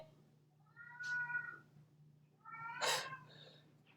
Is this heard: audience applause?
no